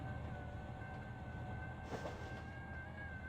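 A Union Pacific locomotive rolls past in Trainz Simulator 3 with a steady low rumble and faint tonal whine, a brief swell near the middle, heard alone with no talking.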